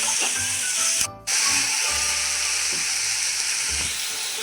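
Tomato frying in a pan with onion, a loud close hissing sizzle that drops out briefly near the start, then resumes steadily with faint scraping underneath and no speech.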